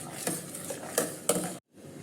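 A spoon stirs sweet payasam in a pressure cooker, giving a few scraping knocks against the metal pot over a steady background hiss, then a brief break before the stirring resumes.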